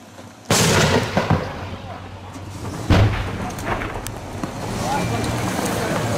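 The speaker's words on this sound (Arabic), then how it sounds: "مضادات الطيران من قبل مقاتلي لواء توحيد الجنوب" Anti-aircraft gunfire in combat around Daraa al-Balad, Syria, in 2013, with heavy booming blasts and rolling rumble echoing across the area, a sharp opening burst and another strong hit midway, while voices shout nearby.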